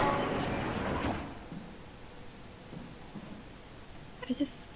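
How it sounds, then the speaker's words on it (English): In the SOMA video game, a door slides shut with a loud whooshing sweep in the first second. Quiet ambience follows, then a few faint knocks and small metallic clinks near the end. "I just closed the door."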